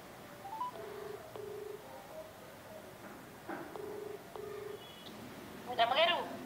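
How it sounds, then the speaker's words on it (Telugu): A telephone being dialed to make a call, a series of short keypad beeps spaced out in pairs over a quiet room, followed by a brief chirping burst at the end. "ఫోన్ చేద్దాం ఒకసారి"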